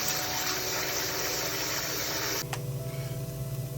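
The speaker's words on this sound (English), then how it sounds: "You got your pot halfway filled with water." Tap water gushes into a big cooking pot meant for smoked turkey, a loud steady rush that suddenly cuts off partway, leaving a low hum behind.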